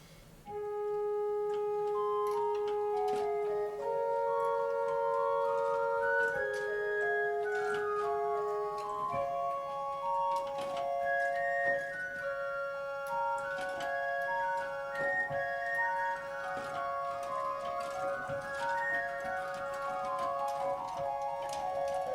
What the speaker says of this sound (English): So we take the Spitzflute of the Oberwerk, the Blockflute of the rgpositiv, and the octave 4 for the cantus and the pedal.